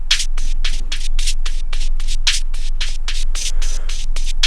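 A distorted synth bass programmed on an Akai Force in a dub psychill track, loud regular pulsing hits with gritty noisy bursts over a steady low drone, repeating in a tight rhythm.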